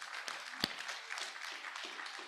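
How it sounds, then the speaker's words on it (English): Conference attendees applaud in a soft, steady wash of clapping heard from a distance, with a faint murmur of voices underneath. "Please give yourselves a round of applause."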